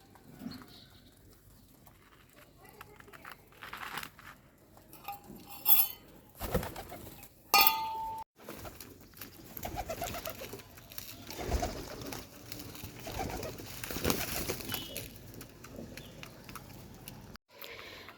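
Soft cooing of pet pigeons while eating, with rustling nearby, occasional flutters and small knocks from the birds moving about.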